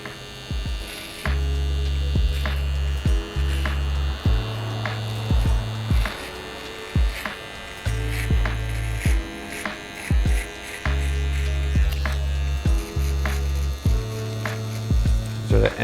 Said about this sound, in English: I'm gonna go ahead and use my soft trimmer